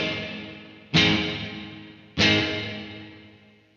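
Two strong chords from a Gibson Firebird X electric guitar, each left to ring and decay smoothly under a dense, short, damped plate reverb wash.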